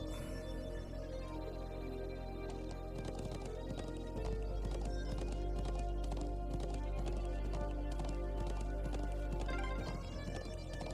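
Horses gallop in The Legend of Heroes: Trails of Cold Steel, a steady rhythmic clip-clop of several hooves over a low rumbling bed, continuous and fairly close, with a brief neigh possible amid game music.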